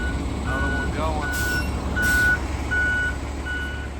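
Concrete delivery truck pulling away at a pour site, its reversing alarm giving a regular series of loud electronic beeps over a low diesel rumble, with faint background noise.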